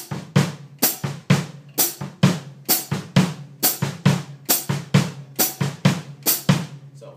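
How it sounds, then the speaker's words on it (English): Samba foot pattern on a drum kit, deep bass drum thumps alternating with short hi-hat chicks in a steady repeating rhythm, close and clear with no talking. "I'm going to show you the foot pattern you use. That means the bass drum and the hi-hat"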